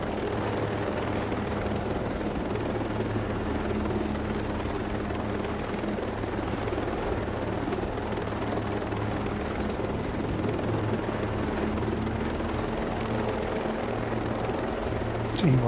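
A helicopter flies in Ghost Recon Breakpoint, a steady loud rotor drone with a constant low throbbing hum filling the whole stretch without letup.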